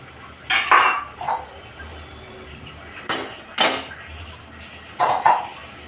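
Washed papdi beans are tipped into a cooking pot for Surti undhiyu, giving a few separate bursts of rattling and clinking against the metal, with quiet gaps between them.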